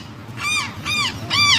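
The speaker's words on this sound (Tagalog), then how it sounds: "Ingay ng ibon." Three harsh, hoarse caws from a crow-like bird, spaced roughly evenly, fairly close and loud against a low background rumble.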